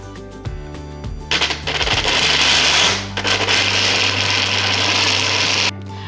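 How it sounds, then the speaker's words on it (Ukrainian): A kitchen blender grinds unsoaked nuts and dried fruits for an energy bar, its loud motor roaring steadily for several seconds with rough, gritty churning before cutting off. "Впоравшись з подрібненням горіхів та сухофруктів, хоча це не дуже легка справа, особливо для блендера"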